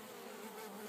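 Honey bees from a newly installed package crawl over a small piece of comb in a top bar hive, giving a steady, close, even buzzing drone that holds through the short moment with no voices.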